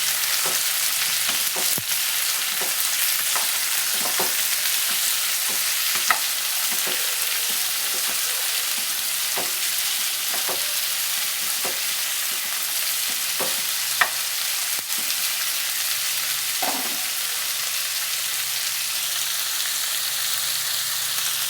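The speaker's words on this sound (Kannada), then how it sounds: "ಗೋಲ್ಡನ್ ಕಲರ್ ಬರೋವರೆಗೂ ಇದನ್ನು ಫ್ರೈ ಮಾಡಬೇಕು." Sliced onions fry in a pan toward golden brown for a dosa side dish, giving an even, continuous sizzle with sparse ticks and pops throughout, close up and without voices.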